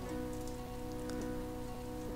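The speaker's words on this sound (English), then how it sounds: "Is it raining? It's raining." Rain falling in the video game Braid, a constant, even patter of raindrops heard alone and fairly close.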